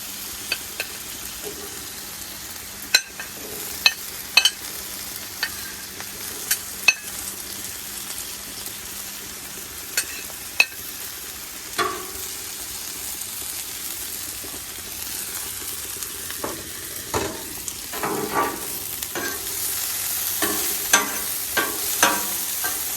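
Tomatoes and onions cook on a Blackstone griddle with a steady low sizzle, punctuated by sharp metallic spatula clicks and scrapes that grow busier toward the end.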